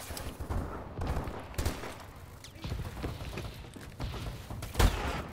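Gigawatt gun in a team deathmatch video game firing in rapid bursts, sharp repeated shots standing out over a dense, busy backdrop of gameplay noise and distant gunfire.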